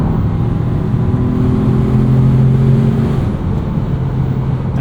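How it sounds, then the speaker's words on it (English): Engine of a 2025 Ford Maverick Lobo pickup droning steadily from inside the cab, its revs climbing as the gearbox downshifts into corners, a continuous close hum with no talking. "So it's going to downshift going into corners, give us maximum revs, maximum performance."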